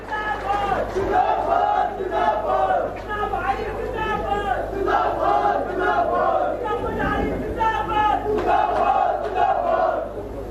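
A large crowd at a Youth Congress rally in Mandi, Himachal, shouts and cheers loudly and steadily, many voices roaring together in a continuous swell.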